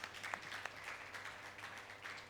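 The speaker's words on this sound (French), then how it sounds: "Vous auriez pu applaudir au moins là" Church congregation applauding during a sermon, a faint, distant patter of many hands with a few sharper claps standing out, sustained over a low hum.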